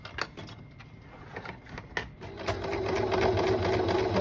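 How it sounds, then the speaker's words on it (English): A sewing machine straight-stitches fabric for a nurse's scrub cap, starting with short bursts and then settling into a steady, continuous whir that grows slightly louder, close by with no talking. "So now just straight stitch all this."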